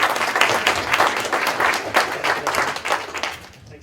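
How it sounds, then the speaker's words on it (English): Loud, dense applause from a conference audience welcoming a speaker at a data event, steady with rhythmic pulses before tapering off at the end. "Big round of applause, please, for Brian."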